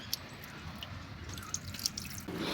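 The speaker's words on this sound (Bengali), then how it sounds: "এরপর আমরা শিবের মাথায় ওম নমঃ শিবায় বলে জল ঢেলে নেব" Water trickles and drips over a Shiva idol's head during a Mahashivratri puja, a soft, steady splashing close by with a few brighter drops, and no voices.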